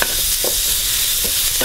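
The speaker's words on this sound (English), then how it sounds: "So I'm going to saute this for about 30 seconds to a minute" Red curry paste sautés with oil and beef in a hot pan, a loud, steady close sizzle with soft stirring scrapes, continuous and without voices.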